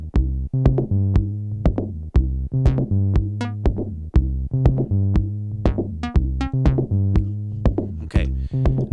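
Synthesizer sequence with raised attack giving a plucky tone, repeating short bright notes over a steady bass line in a driving rhythm, clear and close with no talking.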